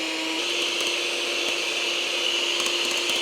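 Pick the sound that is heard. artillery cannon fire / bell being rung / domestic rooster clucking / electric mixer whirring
electric mixer whirring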